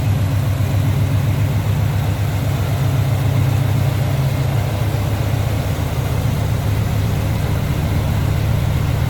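A 1969 Chevrolet C10 pickup truck's engine idles close by with a deep, even, throbbing rumble that stays steady from start to finish.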